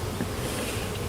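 Honey bees hum in a dense, steady buzz from an opened hive during an inspection, close and continuous with no talk.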